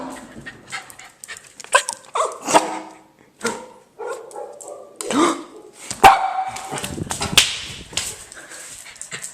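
A dog barking in short, loud bursts mixed with whimpers and panting, excited and close, while a person talks over and between the barks.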